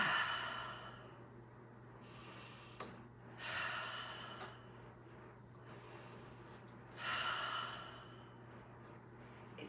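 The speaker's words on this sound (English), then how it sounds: "Breathe 3 times." Slow, deep breaths during an intentional breathwork exercise, three long airy inhales and exhales spaced a few seconds apart, close and soft over a faint low hum.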